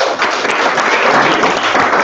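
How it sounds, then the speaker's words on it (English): An audience applauds a speaker at a talk, a dense, loud, continuous wash of many hands clapping that holds steady through the whole moment. "Please give him a round of applause."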